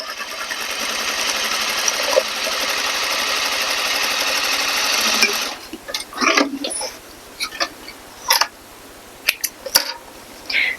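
A sewing machine stitches a seam on a corset panel, a steady close whirring run for about five seconds, then stops and gives way to scattered fabric handling, shuffles and small knocks.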